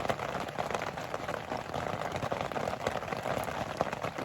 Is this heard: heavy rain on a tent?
yes